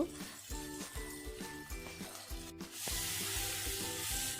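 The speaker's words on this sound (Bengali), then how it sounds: "দেখো আমি ভালো করে নাড়াচাড়া করে নিচ্ছি" Onion and nigella seeds with tomato sizzle in a pan while a spatula scrapes and stirs in steady repeated strokes, the frying hiss growing louder and fuller toward the end.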